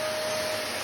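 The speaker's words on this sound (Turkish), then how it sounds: "Süpürge." A household vacuum cleaner runs steadily, a constant whine with a fixed tonal hum, at moderate level and with no talking.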